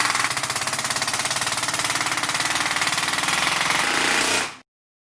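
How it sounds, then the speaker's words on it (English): A pneumatic air hammer drives Trim-Lok black edge trim onto a panel edge, a rapid, steady machine-gun rattle of close, loud impacts that runs continuously for several seconds, then cuts off abruptly. "Trim-Lok also offers a pneumatic air hammer that makes short work out of edge trim applications"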